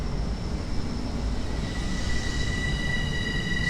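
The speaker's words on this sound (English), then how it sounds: "And we have another train coming out." A Long Island Rail Road M3 commuter train rumbles past at a moderate distance at Ronkonkoma station, a steady low roll with thin metallic squealing tones rising from the wheels.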